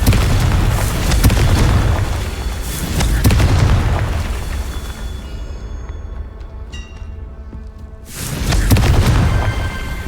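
A Confringo fire spell from Hogwarts Legacy goes off in a series of loud, deep booming blasts. Heavy bursts open and close the passage, and quieter crackling trails sit between them, with no speech.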